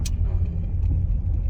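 Rental car driving slowly toward parking at the Bronco Off-Roadeo in Las Vegas, steady low cabin rumble of engine and tyres with a brief knock at the start.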